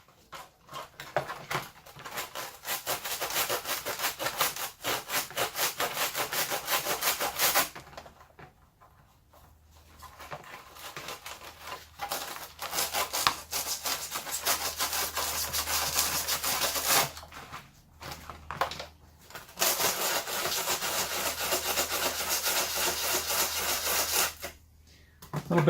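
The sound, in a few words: sanding clone armor edges with sandpaper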